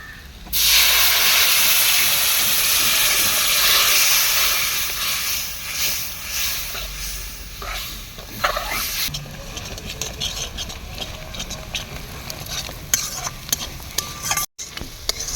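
Ground spice masala for ghugni being stirred and fried in a pan with the water from boiled peas, giving a loud steady hiss of steam and sizzle that gradually eases into scraping stirs and crackles.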